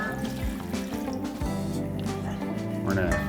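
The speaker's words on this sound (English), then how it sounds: "I'm gonna pour this over the chicken." Marinade is poured over chicken for smoked za'atar skewers, a short wet glugging splash and squish of liquid coating the meat, heard close up under background music.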